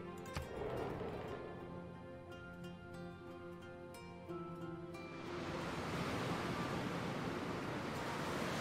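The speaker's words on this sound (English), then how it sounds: "Surging murky water rushes all over the land around the river during this intense flood" Murky flood water surging across the land around a river in Civilization VI, heard as a broad rushing wash that swells up as the music fades out. It stays fairly faint throughout.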